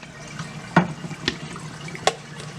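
Blanched green beans drain in a strainer set in a bowl in a kitchen sink, giving a faint steady trickle with a few soft drips and clicks.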